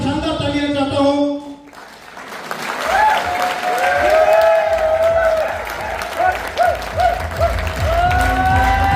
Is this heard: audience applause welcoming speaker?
yes